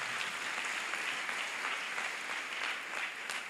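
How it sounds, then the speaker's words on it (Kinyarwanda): A church congregation applauds in steady, dense clapping throughout, close and sustained with no pauses. "Komera Imana amashyi mwene data."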